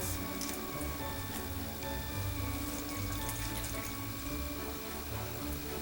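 Hot water fresh off the stove pours into a 17-ounce cup in a continuous, close splashing stream that stays loud and unbroken from start to finish, with no voices.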